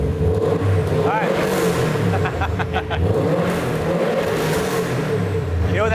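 A Subaru engine revs on its first test drive, a continuous mid-pitched drone rising and falling under cabin noise, with people talking and exclaiming over it.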